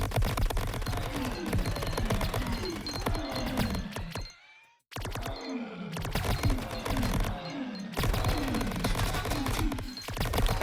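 Video game gunfire in Greedland: dense, rapid bursts of shots with game effects, broken by a short silent gap midway and a brief dip later, loud and unbroken otherwise.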